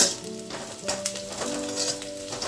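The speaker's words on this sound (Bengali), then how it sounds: "এবার লো ফ্লেমে পেঁয়াজটাকে ভালো করে ভেজে নিতে হবে" Onions sizzle gently in a pan on a low flame while being cooked for a mixed vegetable posto dish. The frying is a soft, steady hiss with occasional stirring scrapes, quiet and close.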